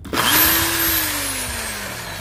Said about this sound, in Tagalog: ito yung Lotus drill natin